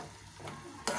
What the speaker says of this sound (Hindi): ये 2 हरी मिर्च जो काट के रखी थी इस तरह की, वो भी मैं इसमें ऐड कर रही हूँ ताकि मसाले में अच्छे से भून जाएँ